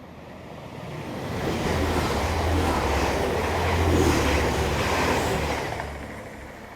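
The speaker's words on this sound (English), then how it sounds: "Oh, here comes the train." A train rumbles steadily into a rural Yorkshire station, a broad low roar building and then easing off, with rushing noise like wind across the microphone.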